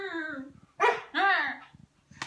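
A pet dog makes a few loud, close yelping barks and whines in a home, with short pauses between the bursts.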